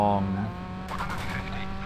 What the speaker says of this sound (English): there's something broken in my engine that just makes my car just struggle